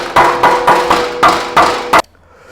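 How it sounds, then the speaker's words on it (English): A hammer strikes an exhaust hanger on a 2022 Ducati Streetfighter V4 SP during an SC Project CR-T exhaust install: six loud, sharp metallic blows in a steady rhythm, then sudden quiet. "after several hammers and a little bit of help, we finally got this to let go."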